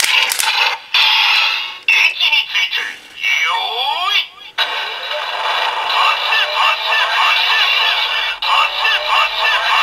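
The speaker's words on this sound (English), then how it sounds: "Then we'll get the summoning sound for the trigger machine." A tinny electronic summoning jingle plays from the small speaker of a DX Trigger Machine Biker toy, with warbling, chirping synthesized tones and a sustained buzzy passage, loud and close.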